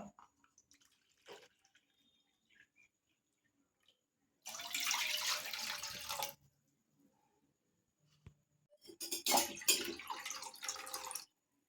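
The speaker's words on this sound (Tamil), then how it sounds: "இதில் நம்ம அரிசி அளந்தால் அதே கப்புக்கு மூணு கப் அளவுக்கு தண்ணி சேர்த்துக்கலாம்" Water splashes and pours into a cooking pot of measured rice in two bursts, separated by quiet with a few small clinks and drips.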